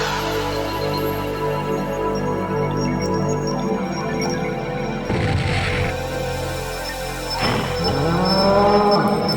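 A monster cry in the Yu-Gi-Oh: Duelist of the Rose video game, a deep cow-like moo that rises and bends in a long harmonic call, with two louder bellowing swells near the middle and end over steady game audio.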